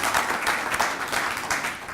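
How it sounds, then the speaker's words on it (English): Steady audience applause at the grand opening of new computer labs, an even wash of many hands clapping at moderate volume throughout. "Let's give him a round of applause"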